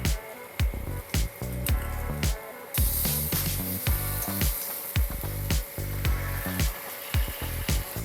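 Ginger and garlic hit hot oil in a pan for a Vetki fish do pyaza, giving a loud sizzle broken by repeated crackling spatters and bursts.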